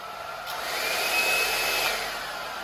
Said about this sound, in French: On va faire le chocolat avec le sèche-cheveux